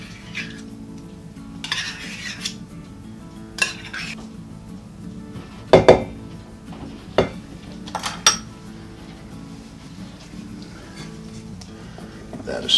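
Sour cream being stirred into banana bread batter in a bowl: soft, intermittent scrapes and clinks of a spoon against the bowl, a few sharper knocks among them, with some speech nearby.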